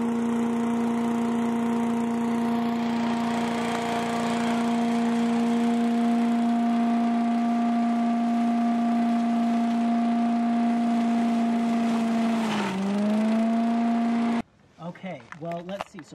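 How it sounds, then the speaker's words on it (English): A leaf shredder running to thresh wild rye grain gives a steady, droning motor hum close by that dips briefly in pitch near the end before cutting out, followed by brief speech. "try a crazy idea using a leaf shredder to thresh our grain"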